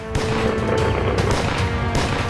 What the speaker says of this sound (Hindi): ये गोलियों की आवाज, ये धमाके,